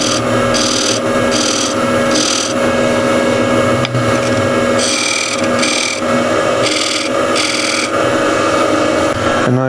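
A skew chisel is worked against an abrasive to raise a burr, giving repeated loud rasping strokes in steady bursts with short pauses between them, close and without any talking.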